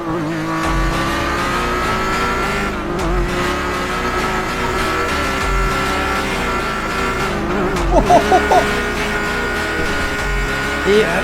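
Modified car engine in the GTA RP video game, a steady engine drone running throughout with a few brief revving or tire bursts near the end.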